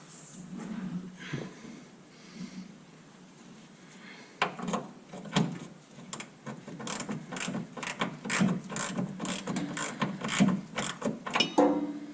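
A ratchet wrench tightens the top bolt of a new truck shock absorber, giving repeated close clicking and clanking that grows busier in the second half, with no talking.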